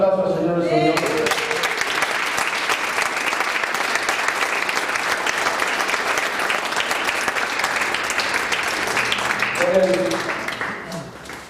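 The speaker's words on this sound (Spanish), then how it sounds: "¿Alguien puede dar un aplauso al Señor?" A congregation at a Spanish-language church service claps for the Lord, a loud, dense wave of applause sustained for several seconds with voices over it near the start and end, then fading.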